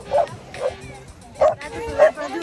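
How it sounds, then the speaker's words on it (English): Dogs playing on Matapeake Beach give several short, loud barks and yips in irregular bursts, with faint outdoor background noise between them. "Look at the dogs playing."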